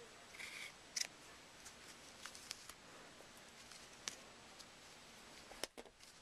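Small scissors snip yarn tails during a crochet project, a handful of quiet, sharp cuts spaced irregularly over soft background hiss, close to the microphone.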